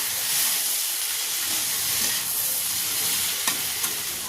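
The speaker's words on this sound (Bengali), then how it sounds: "এই সবগুলো ভালো করে কষে নেবো" Ground Kashmiri red chili, coriander and cumin frying in a pan for a kundru (ivy gourd) curry, a steady close hiss and sizzle with scraping stirs and a couple of sharper clinks near the end.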